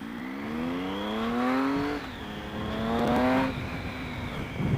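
Loud motorcycle exhaust with a decibel killer fitted, heard while riding: steady engine drone with rising and falling revs across two acceleration pulls, close and continuous over wind noise.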